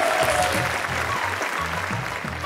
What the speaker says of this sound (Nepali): ताली एल्जिनाको लागि जोरदार